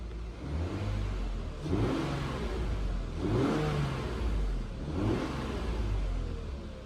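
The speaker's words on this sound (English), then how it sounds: "I'll give you a small rev here, not much because it's still pretty cold" A cold Lexus IS300 engine is revved gently a few times, each short rise in pitch easing back to a steady idle, close and alone with no talking.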